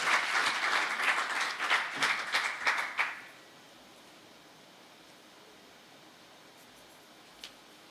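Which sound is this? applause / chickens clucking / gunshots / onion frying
applause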